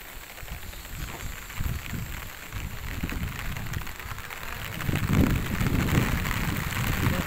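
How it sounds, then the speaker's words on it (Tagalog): Rain patters steadily on a surface with a soft continuous hiss, growing somewhat heavier and closer in the last few seconds. "Ang ulan. Babagsa na po."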